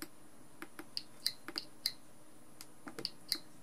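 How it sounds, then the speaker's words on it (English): Passive buzzer on an electronics hobby circuit, wired in place of an active buzzer, giving a string of faint, irregular dry clicks in a quiet room. "there's that clicking there. That's indication you got a passive buzzer there instead of the active one."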